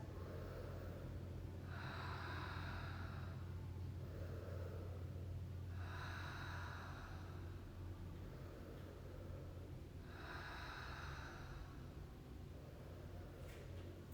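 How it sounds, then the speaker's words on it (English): Slow, deep breaths in child's pose come in three long airy exhales spaced several seconds apart, soft and near against a quiet room hum. "Take some nice deep breaths."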